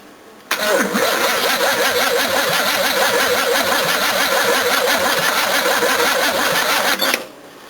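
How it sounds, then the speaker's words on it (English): A car engine cranks steadily on jump leads with a tired starter, a loud, even, labored whirring that runs for about six seconds without catching, then stops abruptly. "This engine never sounded brilliant cranking anyway. I think the starter's a bit tired, and we're jumping off leads as well."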